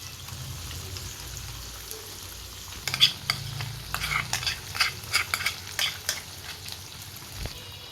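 Onion and green chilli paste stirred and fried in a pan for a spicy chicken gravy: soft background sizzle, then from about three seconds a run of near scraping, clattering stirs with a thump near the end, no talking.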